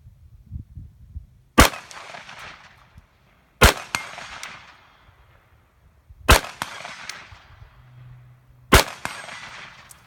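Four sharp gunshots from a custom-built AR-15 rifle with an aperture sight, fired at a range, each a loud crack with a ringing decay, spaced a couple of seconds apart with no talking.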